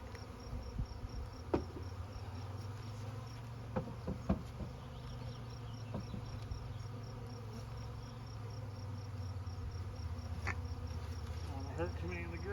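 Honey bees buzz steadily around a freshly opened hive during a queen and colony install, a constant low drone with scattered knocks and handling clatter from frames and a feeder can being moved.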